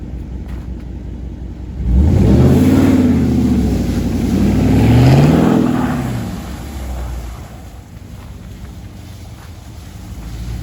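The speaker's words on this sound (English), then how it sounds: "After that mid-muff delete, this thing is sounding nice." Dodge Daytona with a mid-muffler delete revving hard while sliding in snow, one loud rising and falling engine roar lasting a few seconds over steady wind and background rumble.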